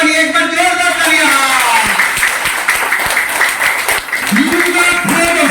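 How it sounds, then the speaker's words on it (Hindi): A crowd applauds loudly in a steady wash of clapping at an event, while a presenter's voice carries over it. "एक बार जोरदार तालियां।"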